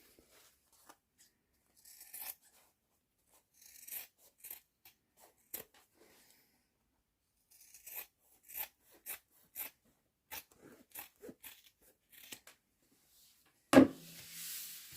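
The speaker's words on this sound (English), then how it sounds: "I'm also just going to cut the seam allowance down to about 1/4 inch" Fabric scissors trimming a sewn seam allowance: a series of short, close snips and rustles in uneven bursts with quiet gaps, then a louder rustle of cloth being handled near the end.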